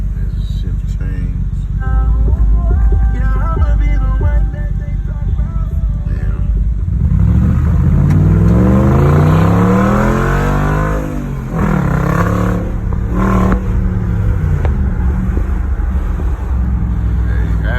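An Audi Q6 with a V8 engine and a loud dual exhaust revs hard, with a rising engine note that drops at a gear shift and then climbs again. The sound stays loud and close throughout.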